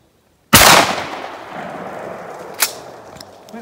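A shotgun fires a .410 Foster slug cast from .41 Magnum bullets, a single loud close blast after a brief silence, its report decaying into a long outdoor echo with a faint sharp knock shortly after.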